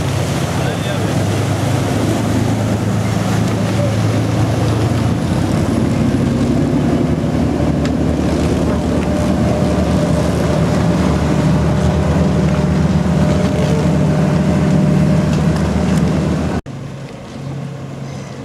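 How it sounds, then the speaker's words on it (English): Water taxis and ferries on Lake Garda churn past, a steady motor drone with rushing water and wind buffeting the microphone, continuous and fairly loud before dropping off abruptly near the end. "Water taxis and ferries of many types operate continually."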